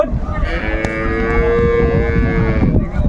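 A dairy cow at the Ambari cattle market in Dinajpur gives one long, loud, close moo lasting nearly the whole clip, over a busy background of market noise, with no talk.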